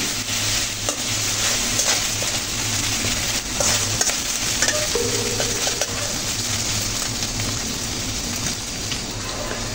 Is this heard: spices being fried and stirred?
yes